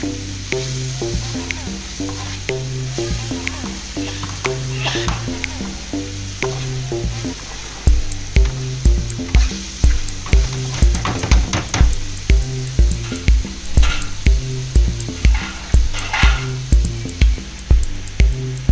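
Chips frying in a pan with a steady sizzle under music with a regular beat, loud and continuous throughout, no speech.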